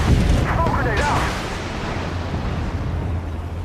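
A smoke grenade in a video game goes off with a heavy, booming burst and hiss up front, then a low rumbling wash that fades under faint background voice chatter.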